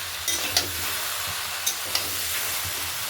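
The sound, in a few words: vegetables and fish head being stir-fried in a pan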